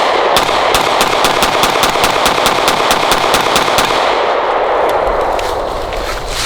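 A Canik MC9L pistol with a longer grip and 17-round magazine fires a rapid, evenly spaced string of loud, sharp shots. The shots stop near the end, leaving a quieter tail.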